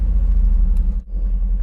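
A Mercedes-AMG GT Roadster pulls away with a steady, close low engine rumble that dips briefly midway, then resumes evenly, with no talk over it.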